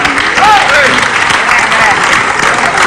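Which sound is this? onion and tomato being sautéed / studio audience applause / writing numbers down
studio audience applause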